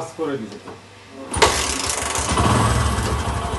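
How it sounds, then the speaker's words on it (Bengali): A 2013 Bajaj Discover 125cc motorcycle being kick-started. A voice talks briefly, then the engine catches abruptly and settles into a close, loud, uneven running sound. "গাড়িটা এখন আপনাদেরকে স্টার্ট অবস্থায় সাউন্ড শোনাবো।"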